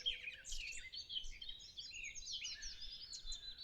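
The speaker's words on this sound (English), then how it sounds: "the gentle trills of birds" Birds trill and chirp in the morning, several bright overlapping calls and twitters continuing throughout, fairly faint and at some distance, with no talking.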